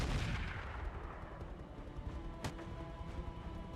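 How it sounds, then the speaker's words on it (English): Artillery fire booms in the BattleTech mod RogueTech, a heavy rumbling barrage with one sharp crack midway and a continuous low roll throughout, no talking. "Artillery of some description."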